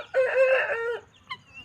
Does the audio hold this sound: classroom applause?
no